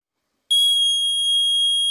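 A sharp electronic alarm tone from a COVID distance-alert device with a proximity sensor starts abruptly and holds steady and loud, a continuous high-pitched beep with no talking.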